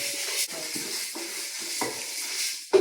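Lentils, coriander seeds, pepper, dried red chillies and fenugreek dry-roast in a pan on a gas stove, with a spoon scraping and stirring in repeated strokes over a soft, dry crackle.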